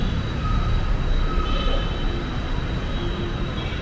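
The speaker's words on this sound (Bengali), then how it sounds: "এবার আমরা মেট্রোতে উঠবো।" A Bangalore metro train rolls through a station at Yeshwanthpur, a steady loud rumble of wheels on rail with a high faint squeal running over it, continuous for the whole stretch with no talk.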